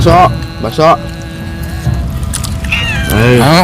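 A large cat meows several times, drawn-out and wavering, near and loud, with people chatting around it at a roadside bakso meatball soup stall.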